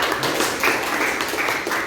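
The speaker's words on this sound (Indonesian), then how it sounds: "Kasih tepuk tangan untuk Anissa." A classroom of students in an agribusiness livestock lesson clapping for a classmate, a close, steady patter of many hands throughout with no voices over it.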